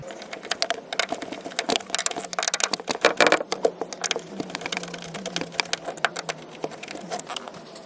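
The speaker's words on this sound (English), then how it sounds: "Okay, those 2 screws are tight." A Torx star-drive screwdriver tightens screws into a Honda clamshell sun visor, producing rapid, close, irregular clicking and ratcheting taps that run continuously, densest in the middle, with no voices.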